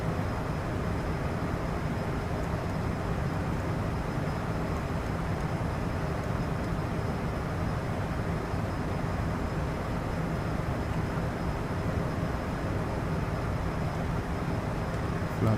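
Cessna Citation CJ4 business jet, modded in Microsoft Flight Simulator, climbing out of Basel with gear up: a steady, broad engine roar and rush holds at an even level throughout, with no talk over it.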